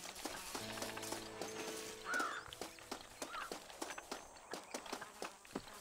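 Horse hooves clip-clop at a steady walking rhythm in the Red Dead Redemption video game, a crisp, even series of footfalls through the whole stretch with faint game ambience behind.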